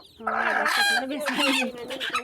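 Newly hatched quail chicks, brooded by a hen, chirp in a dense, continuous cluster of high, bright peeps close by, with overlapping calls filling the whole moment.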